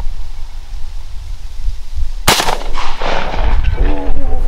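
A single sharp, loud shotgun blast cracks out during a mourning dove hunt outdoors, followed by a rolling echo and rustling movement.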